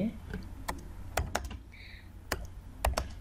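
A date being typed on a computer keyboard: a handful of distinct, close key clicks land at uneven intervals over a quiet room.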